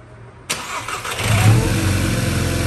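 A car engine cranks and catches in a workshop, then settles into a steady running idle with a rising rumble, close and loud, with no talking.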